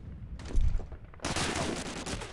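Bursts of gunfire from Medal of Honor: Allied Assault multiplayer, a heavy volley near the start giving way to sustained, dense shooting that fills the rest of the moment loudly.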